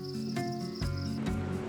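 Crickets on an edible cricket farm chirp in steady, bright trilling pulses, close and continuous, with a few soft bumps and rustles underneath.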